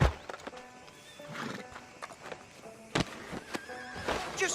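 A horse in Red Dead Redemption 2 neighs and whinnies over clip-clopping hooves, with sharp snorts and hoof strikes at moderate level against a soft game ambience.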